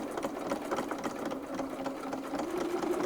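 A sewing machine runs a steady continuous quilting stitch on a petal border pattern, a close, even mechanical hum with a fast regular chatter throughout, no talking.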